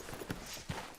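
Horse hooves clip-clop at a slow walk on a town street in Red Dead Redemption 2, soft and a little distant, with a couple of distinct hoof falls over low background noise.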